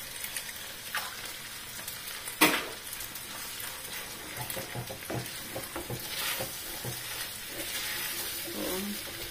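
An egg sizzling as it fries in a very hot iron pan, a steady crackling hiss with a sharp pop near the start and soft clinks of a utensil scattered throughout, close and fairly quiet.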